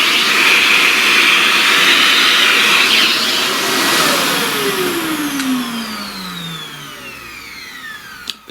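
A vacuum cleaner lifts pastel dust off a flower drawing, a loud steady whine at close range that slowly winds down in pitch toward the end, with a brief knock at the finish.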